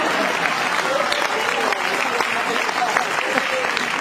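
Audience applause from a live comedy crowd, steady dense clapping filling the whole stretch at close, even loudness with no talk over it.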